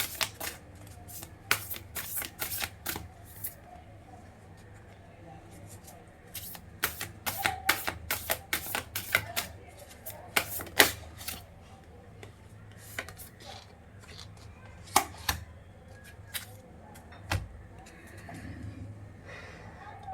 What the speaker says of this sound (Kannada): ಫೈನಲ್ ಆಗಿ ಇಲ್ಲಿ 3 ಕಾರ್ಡ್ ಇಡ್ತೀನಿ